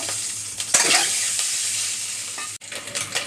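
Eggs fry in oil with a pinch of turmeric for an egg curry, a loud continuous sizzle broken by scraping stirs and a brief dip near the end, with no talking.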